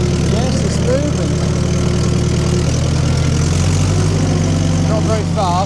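A small Drott tracked machine's engine runs steadily and loudly up close as it creeps forward, a constant low mechanical drone with people speaking over it.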